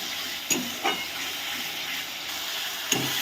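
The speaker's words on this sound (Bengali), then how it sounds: "এবার এই মশলাটা ভালো করে কষিয়ে নিচ্ছি।" Bengali spice paste for ghugni being stir-fried in a pan with a little water and sugar: a soft, steady sizzle and hiss, broken by a few quick scraping stirs, quiet and close.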